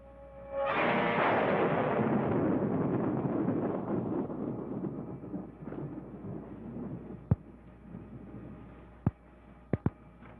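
Thunder breaks during a stormy night, a sudden loud crash that rolls into a long, slowly fading rumble, followed by a few sharp isolated knocks near the end.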